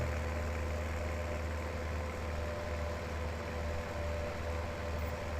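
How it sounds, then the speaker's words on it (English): Replacement farm tractor engine running steadily at idle, a loud continuous low rumble with a constant mechanical drone, close by and uninterrupted, with no voices. "still quite a loud tractor, but it's not, I don't think it's as loud"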